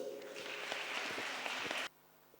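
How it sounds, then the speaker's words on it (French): Church members at a children's Sunday school celebration applaud a class. The clapping is dense and close for nearly two seconds, then cuts off abruptly into near silence. "Applaudissez pour eux."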